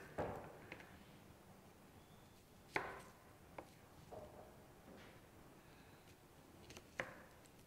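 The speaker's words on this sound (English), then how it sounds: "So first you have to chop your onion." A knife chops an onion on a board while a tomato component is prepared, giving a few sparse, sharp knocks over a low room hiss.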